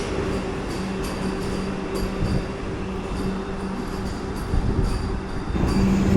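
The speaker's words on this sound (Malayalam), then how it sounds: "ഇപ്പോൾ ട്രെയിൻ ജസ്റ്റ് വന്ന് നിന്നു." The 16-car Vande Bharat Express 20628 pulls into a platform and comes to a stop, a steady low rolling rumble with faint humming tones and a slight rise near the end, heard without talk.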